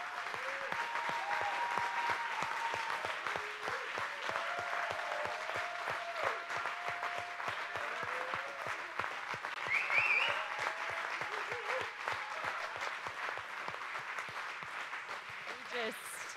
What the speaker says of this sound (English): I just feel like we need to clap for them